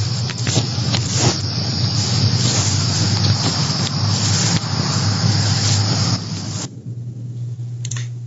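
A car drives past on Canal Road at night, with a loud, close rumble and whoosh under a steady low hum that cuts off sharply near the end.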